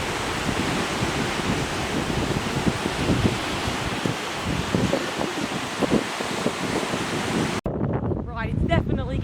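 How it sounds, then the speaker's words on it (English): Strong wind gusts buffeting the microphone on a seafront promenade during a storm, a loud continuous roar with rumbling surges, a brief cut near the end followed by a voice speaking under the wind. "it's definitely getting windier on the promenade."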